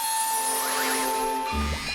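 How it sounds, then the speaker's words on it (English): A dinner bell rings in an animated period countryside scene, giving a bright, sustained metallic chime over background score. "You must have heard the dinner bell."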